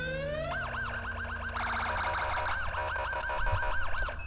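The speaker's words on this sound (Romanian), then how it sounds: "Sirenele, evident," Romanian police car sirens in GTA 5 with the LSPDFR mod wail in rapid, overlapping up-and-down sweeps, loud and close, joined by a low engine rumble and no speech.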